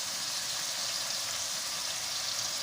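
Spices are sautéed in a pan for a potato and egg curry, and a constant, even hiss of frying runs close and steady with no break.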